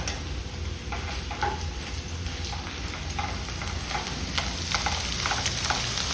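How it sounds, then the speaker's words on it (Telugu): A tempering fries in hot oil for carrot coconut chutney, making a continuous close sizzle with light stirring ticks and crackles throughout. "ఇది ఇప్పుడు తాలింపు వేసుకుందాం. తాలింపు అయితే వేస్తున్నాను పచ్చడికి."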